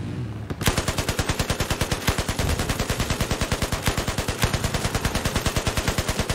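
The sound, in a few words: gunfire from the video game Battlefield 4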